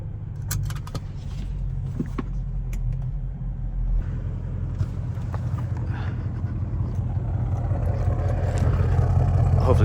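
An idling Audi S7 parked at the roadside, a steady low engine rumble that grows slightly louder and rougher toward the end, with faint clinks and rattles over it.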